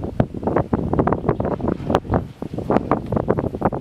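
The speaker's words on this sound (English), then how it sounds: "shushing noise is actually from the wind turbine behind it" A wind turbine at Penghu National University on Penghu island, Taiwan, gives off a steady shushing whoosh, blended with rough gusts of wind buffeting the microphone throughout.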